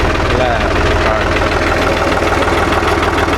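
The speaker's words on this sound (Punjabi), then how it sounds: "tractor start" A New Holland 480 tractor engine chugs steadily at idle after starting, a low rumbling knock repeating evenly throughout, loud and close.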